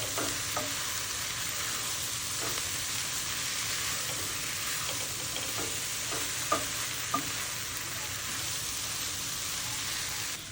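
Mixed vegetables with garam masala and coriander being stirred in a pan for vegetable pulao, a steady soft sizzle throughout with light scraping clicks of the spoon, no talking.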